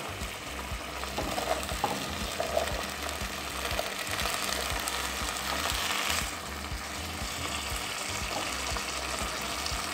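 Chopped vegetables, including celery and carrots, fry in a pot as the base for an oat soup, giving a soft continuous sizzle with occasional stirring clatter, faint and steady throughout.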